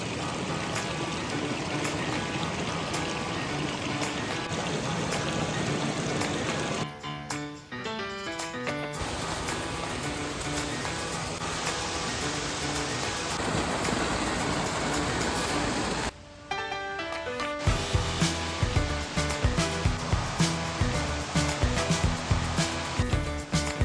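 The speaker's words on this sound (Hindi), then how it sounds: "तो दोस्तों ये है वो नदी जिसको हमने पार करना है 12 बार।" A jungle river flows steadily over mossy stones as a continuous, loud rushing wash, with two brief dips partway through before the flow resumes.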